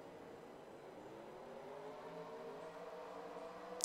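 Race car engines in a NASCAR video game at Motegi, a steady blended roar of many cars held at a moderate, even level, with no voices over it.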